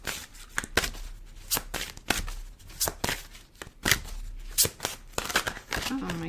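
Tarot cards shuffled by hand in quick, crisp riffling bursts that repeat several times close up, with a voice speaking briefly near the end.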